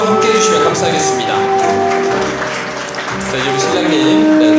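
Wedding guests applaud steadily throughout as the couple enters, a dense, continuous wash of clapping in a reception hall with a sustained musical tone underneath, dipping slightly midway before swelling again.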